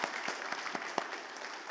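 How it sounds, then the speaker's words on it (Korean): A church congregation claps together, steady dense applause at moderate volume with no talking over it. "우리 다시 한번 박수로 한번."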